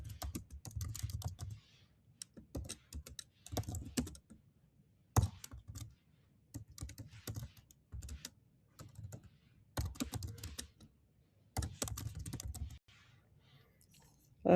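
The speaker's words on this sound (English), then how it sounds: "So I'm just going to choose the italics on my Word document and type the title in." Typing on a computer keyboard while entering a title in a Word document: bursts of close clicking keystrokes separated by short pauses, with no talking.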